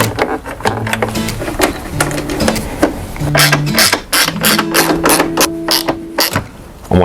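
Tow mirror being bolted onto a Ford F-150 door, a rapid series of close, sharp ratcheting clicks and mechanical taps, steady and loud throughout, with a low whirring tone underneath and nobody speaking.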